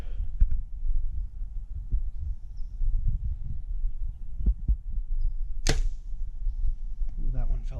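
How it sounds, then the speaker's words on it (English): Arrows loosed from a bow at 100 yards strike the target as a few sharp, separate impacts spaced across the stretch, with a crisp louder hit near the end and quiet outdoor ambience between shots. "we're gonna shoot a few more arrows and just confirm that that's the case"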